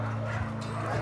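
Dog at an animal shelter giving a short yip-like bark over a steady low hum, close and moderately loud.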